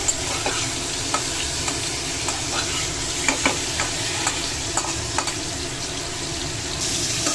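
Mango chutney fries over raised gas heat while a spoon stirs it, giving a steady sizzle broken by regular scraping clicks and knocks against the pan.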